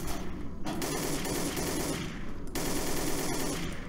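Rapid automatic gunfire from Codename CURE, a zombie shooter, in sustained bursts broken by a short pause, loud and close with no talking.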